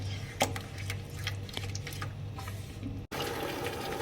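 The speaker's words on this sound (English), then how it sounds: "I'll just add little of water to adjust the consistency." Water is poured into a chilli baby corn gravy in a pan, a steady soft trickling and splashing close by, ending abruptly.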